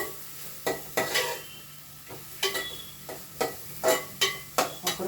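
Onions being stirred in a pan for Nellore-style fish curry, a series of distinct scraping stirs in an irregular rhythm, close and fairly clear over a low background sizzle.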